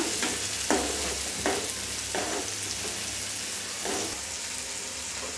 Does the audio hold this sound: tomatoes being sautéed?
yes